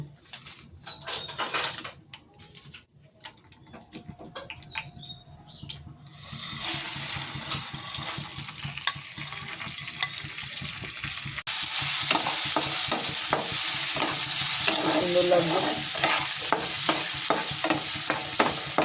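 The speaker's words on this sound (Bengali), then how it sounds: "মশলাটা ভাজা ভাজা হবে" Steady sizzling and crackling of spices, dried chillies and coconut frying in a hot pan, growing louder partway through, with brief speech and a few clinks at the start.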